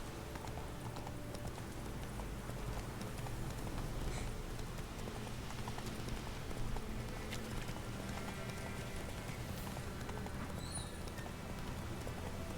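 Roach, Geralt's horse in The Witcher 3, gallops with steady, close hoof clip-clops running continuously under a game ambience bed, with no one talking.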